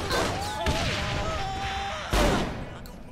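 Shotgun blasts from Saints Row: The Third gameplay ring out loud and close, with a sharp shot near the start, another just after half a second, and a heavy blast past the two-second mark over a busy game soundscape.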